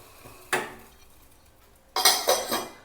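A metal lid set onto a pot of ajwain water boiling on a gas stove: one sharp clink, then after a pause three quick clattering knocks as it settles, over a faint background hiss.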